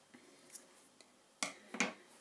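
Scissors snip through wool for a handmade circle crown, a few quiet close clicks and then two crisper cuts near the end, with no talking.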